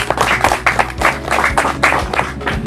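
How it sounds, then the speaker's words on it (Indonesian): A crowd at a tourism development ceremony in North Lombok clapping steadily, with bursts of hand claps rising and falling in rhythmic waves, fairly loud and close. "Tepuk tangan untuk kita semua"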